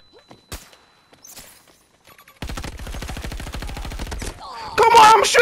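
Automatic gunfire in the shooter game Battlefield 2042, a few scattered single shots and clicks followed by a sustained rapid burst of rattling fire, close and loud, ending in a louder explosive blast.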